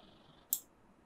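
A single crisp key press on a computer keyboard, the O shortcut for marking an out point in Premiere Pro editing, lands as one sharp close click in an otherwise quiet room.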